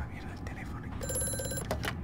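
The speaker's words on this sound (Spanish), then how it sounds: "la mierda del teléfono" A telephone rings in the horror game Amnesia: A Machine for Pigs, its bright repeated trill starting midway and sounding clearly over a low ambient rumble, with someone talking at the same time.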